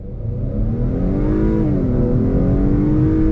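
A 2021 Acura TLX A-Spec sport sedan's engine revs up steadily under full-throttle acceleration, its pitch climbing and holding loud and close throughout.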